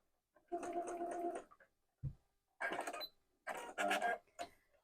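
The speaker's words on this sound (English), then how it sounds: "And sew in about an inch or so and backstitch really well." A sewing machine stitches and backstitches a wallet in short bursts of steady whirring, with pauses and a single thump between runs, close and fairly quiet.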